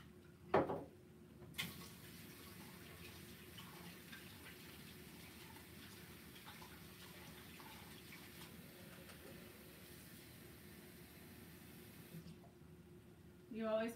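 Running water streams steadily from a tap as a paintbrush is rinsed at a sink after acrylic flower painting, a soft continuous splashing hiss that carries on for most of the stretch and cuts off near the end.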